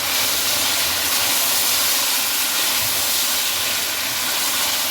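Meat frying with garlic ginger paste in a pan for aloo gosht, a steady loud broadband sizzle and hiss running unbroken throughout with no talk.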